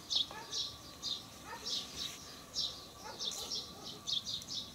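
Sparrow chirping at a fishing spot, repeated short bright chirps in an irregular rhythm over faint background noise, moderately close.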